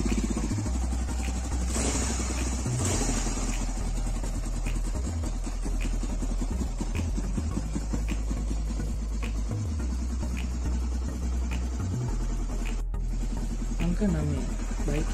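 A Honda AX-1 250cc motorcycle engine idles steadily and close by for the whole stretch, a constant low mechanical rumble with light clatter and small revs, while a person talks over it.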